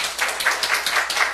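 A church congregation applauds during a Korean Sunday sermon, with dense, steady clapping that sounds close and fairly loud.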